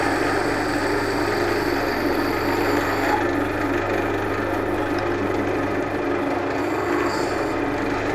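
A skew chisel takes a planing cut on a spinning wood lathe, giving a continuous, loud hiss over the steady hum of the machine, with no pauses.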